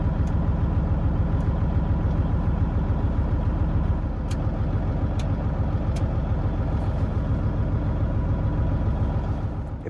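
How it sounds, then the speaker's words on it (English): A Dodge pickup truck engine idles steadily at close range on a farm, a continuous rhythmic rumble with a few faint sharp clicks in the middle and no talk. "Probably should let this truck run a little bit more while I'm putting everything back together."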